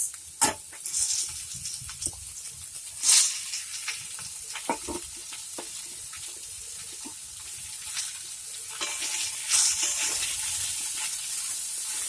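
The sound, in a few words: bottle gourd (ghiya) being stirred and fried in pan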